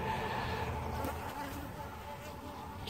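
Honeybees drone in a dense, continuous buzz around an open hive while frames are worked, close and steady throughout, with no talking.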